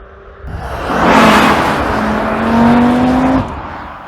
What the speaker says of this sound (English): The turbo inline 5-cylinder.